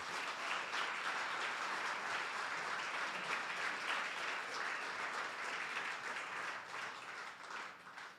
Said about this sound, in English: Would you please give a round of applause for all of our speakers tonight?